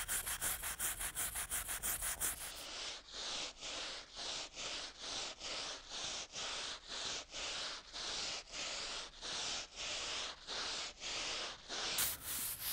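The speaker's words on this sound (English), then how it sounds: "I'll kind of scrub and reapply as I need to." Graffiti remover being scrubbed into masonry with a brush, steady rhythmic back-and-forth strokes close up, about two per second after a quicker flurry at the start, with no voices.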